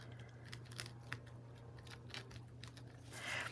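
Scissors cut paper for a handmade junk journal, a few faint, quiet snips scattered over a soft steady hum, with no speech.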